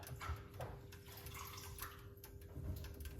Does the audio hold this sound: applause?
no